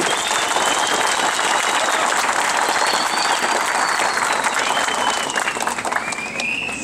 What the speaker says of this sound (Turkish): bu vatanını korumak için buraya gelen insanlar için bir alkış istiyorum